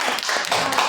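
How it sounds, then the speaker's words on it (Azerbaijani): A room full of fifth-grade pupils claps for four quiz finalists, a dense, steady patter of many hands sustained loudly throughout. "Finalçılarımızı bir alqışlayaq"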